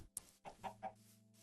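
Minecraft chickens cluck in a short series of three or four quick low clucks after a sharp high blip, faint and alone in the game.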